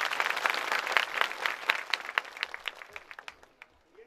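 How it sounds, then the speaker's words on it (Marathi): An audience at a spiritual discourse gathering claps loudly together, and the applause thins into scattered individual claps that fade away toward the end. "जोरदार टाळ्या वाजवा।"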